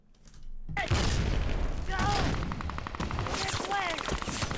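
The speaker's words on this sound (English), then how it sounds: "There's a couple of CGI fake bullet hits like going on right here and a couple of other ones" Staged gunfire with CGI bullet-hit effects from an action movie scene, loud sustained bursts of shots and impacts after a quiet start, with someone talking over the noise.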